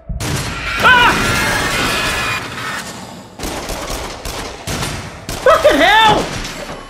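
Shotgun blasts and chaotic gunfire in the VR shooter game Until Dawn: Rush of Blood, loud repeated bursts and crashes layered with game effects, while a player talks and exclaims over them.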